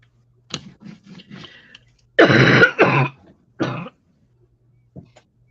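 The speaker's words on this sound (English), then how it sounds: "Cough's not getting any better." A few quiet clicks, then two harsh coughs in quick succession, a short pause, and one more cough, close to the microphone.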